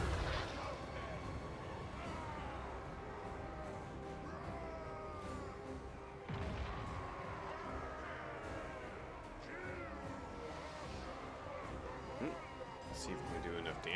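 Deep artillery booms thud repeatedly through a dense, rumbling Total War: Warhammer 3 battle with Chaos Dwarfs, with layered crashes and constant clatter filling the mix.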